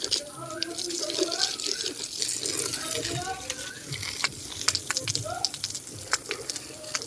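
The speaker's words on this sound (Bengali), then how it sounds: "ঝাপঝাপ করে গাছের গাছগুলো জল দিয়ে দিই" Water splashes and gushes steadily as garden plants, including an eggplant, are watered from a motor-pumped supply on a hot day, the wet patter continuous and close, with voices talking over it.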